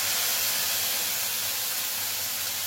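Ginger, radhuni and coriander paste hits hot oil with a loud, continuous, even sizzle that stays strong and unbroken throughout, close to the pan.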